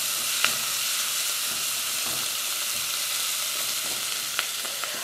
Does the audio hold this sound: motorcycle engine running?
no